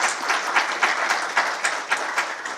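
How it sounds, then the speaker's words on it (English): An audience claps for a speaker at a spectrum management conference in a steady, moderately loud round of applause that continues throughout. "please, a round of applause for Nick"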